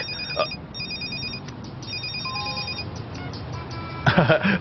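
A cellphone rings with a bright repeating electronic ringtone pattern, moderately loud, briefly overlapped by a voice near the end.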